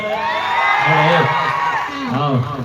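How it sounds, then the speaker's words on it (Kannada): Crowd at a live event in Bijapur cheering and whooping, a dense wash of many voices with shouts rising and falling, steady and fairly loud throughout. "ಬರ್ಲಿ ಒಂದ್ಸರಿ ಜೋರ ಚಪ್ಪಾಳೆ"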